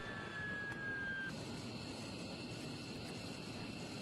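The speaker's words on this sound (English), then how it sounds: "It's a beautiful plane." An airplane engine hums at moderate distance, a steady roar with a faint high whine fading early on, no one speaking.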